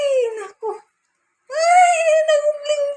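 A dog whimpers and whines in high, wavering cries, a short burst, a pause, then a longer drawn-out whine up close.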